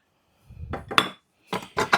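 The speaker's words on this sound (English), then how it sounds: "Scrape all of my goodness off of the paddle and into the bowl." A spatula scrapes cream cheese mixture off a mixer paddle into a bowl, producing a few short metallic clinks and scrapes in quick separate bursts, close and clear, with no talking.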